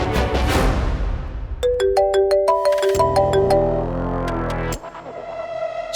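A phone ringtone plays loud and close in a Hindi TV drama scene. It is a bright electronic melody of stepped tones that repeats for several seconds with no voices.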